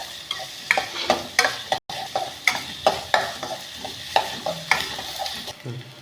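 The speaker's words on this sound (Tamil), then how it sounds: "இது நல்லா வதக்கிக்கலாம்." Bottle gourd is stirred and sautéed in a pan, rhythmic spatula scrapes and knocks over a light sizzle, close and clear with a brief dropout partway through.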